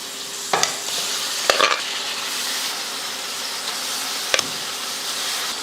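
Boiled goat intestines sautéing in oil in a pan for a Tamil kudal fry, giving a steady close sizzle with a few sharp scrapes of a spoon stirring against the pan.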